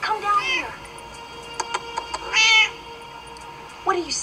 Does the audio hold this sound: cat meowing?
yes